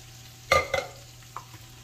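Dried chiles frying with pork in a pan, heard as two short sharp bursts of stirring and sizzle followed by a faint scrape, over a steady low hum with no talking.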